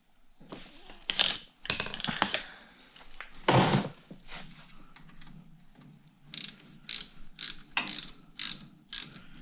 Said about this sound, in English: I'm gonna put the other screw in, thread that guy through there, and tighten them up.